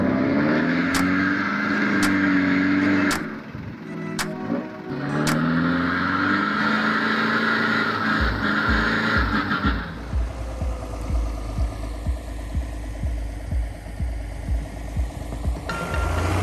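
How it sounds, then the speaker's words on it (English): Heavy tractors, including a Belarus 1221, grind and rev through deep mud in a mud-driving contest, engines roaring loudly and steadily with sharp knocks early on and a deep rumble building later. "The engines roar, the wheels spin, kicking up mud."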